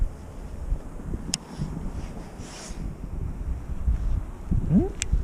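Low, rumbling wind buffets the microphone outdoors during a fishing session, with faint rustling and a couple of brief clicks from a baitcasting reel. The buffeting stays steady and close throughout, with no speech.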